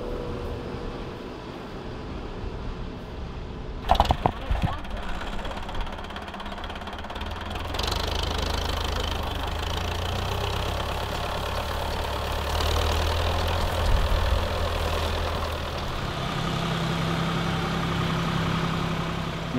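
Steady mid-to-low engine drone from a grain harvesting machine working an oat harvest, running continuously at a constant level with a brief clatter early on.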